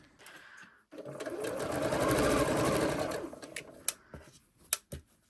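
A sewing machine pieces quilt fabric in one steady, close run of stitching lasting a couple of seconds, followed by a few sharp clicks and handling knocks as it stops.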